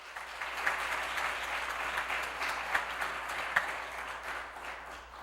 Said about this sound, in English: Let's give Colin a big round of applause.